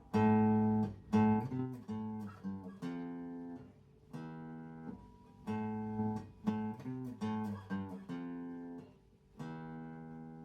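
The opening riff rings out on an acoustic guitar: separate plucked notes with sliding pitch changes, played twice in a steady rhythm, clear and close with no voice.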